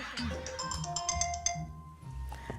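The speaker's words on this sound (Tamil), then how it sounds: "இன்னொரு ஃபோன் வருது நான் வைக்கிறேன்" A phone rings for an incoming call with a short, bright electronic melody of quick repeated tones, fairly close and clear, with low murmuring underneath.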